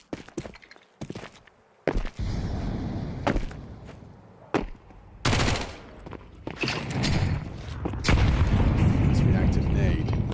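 Shotgun blasts and bursts of rapid gunfire in a competitive tactical shooter match at a PGL Cluj-Napoca tournament, loud sharp reports and sustained volleys under a caster's excited commentary.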